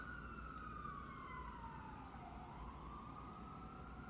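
A siren wails in a slow falling and rising sweep, heard faintly at a distance over a low rumbling background, with no voices.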